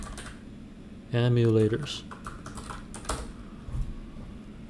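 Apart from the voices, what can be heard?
typing on a computer keyboard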